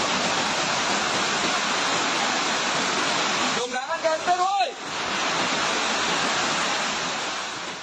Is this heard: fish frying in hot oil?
no